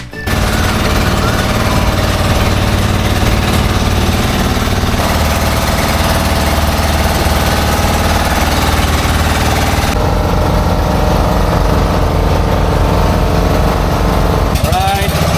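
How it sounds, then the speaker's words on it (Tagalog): A boat engine runs loud and close throughout a ride on an island-hopping tour in Palawan, giving a harsh, rapid chugging roar that barely changes over the whole stretch. "Tara, sakay na tayo sa boat."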